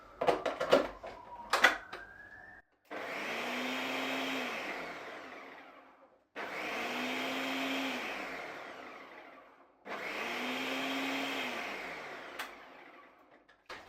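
A blender makes fruit soup, running in three separate pulses of roughly three seconds each, a loud whirring motor roar with a dipping low hum, preceded by clattering and clicks as it starts up.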